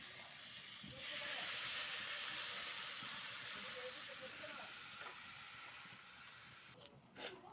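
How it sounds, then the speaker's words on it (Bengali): Fried pointed gourd and potato go into a hot pan with a little water, setting off a sudden loud steaming hiss and sizzle that holds steady and slowly fades, with a few clinks near the end. "ভেজে রাখা পটল আলু দিচ্ছি, একটুখানি জল দিব,"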